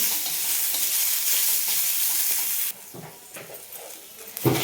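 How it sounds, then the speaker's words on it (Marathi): Onion and ground masala roast in oil in a pan, giving a steady close sizzle with stirring scrapes; halfway through the hiss drops sharply, leaving quieter scattered frying crackles and a few louder stirring bursts near the end. "थोडंसं भाजत आलं की थोडे तेलाचे धार टाकून छान भाजून घेऊ"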